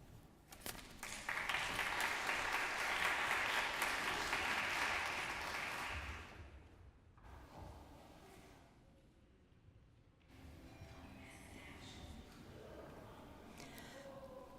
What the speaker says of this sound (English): Welcome them with a big round of applause.